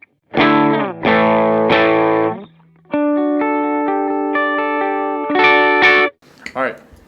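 Electric guitar played through an HX Stomp amp model with a compressor, sustained distorted chords and a held single note ringing loud and clean-edged, broken by brief pauses, with a short final strum.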